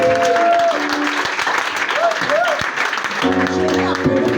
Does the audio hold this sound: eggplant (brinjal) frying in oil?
no